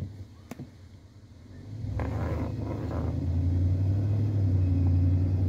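A Toyota Sequoia with a power steering fluid leak drives off, starting with a quiet interior hum and a sharp click, then a low engine rumble that swells and holds steady from inside the cabin, with no talk.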